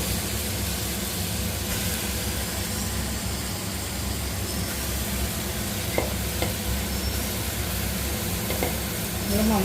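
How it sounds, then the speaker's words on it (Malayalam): Chicken stirred through a masala in a hot pan, a steady dense sizzle with stirring scrapes and a few sharper clinks near the end, continuous and fairly close. "ഇതിലേക്ക് നമുക്ക് ചിക്കൻ ഇട്ട് കൊടുക്കാം."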